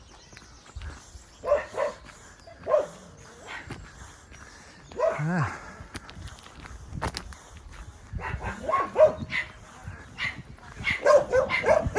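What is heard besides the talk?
unhappy dog barking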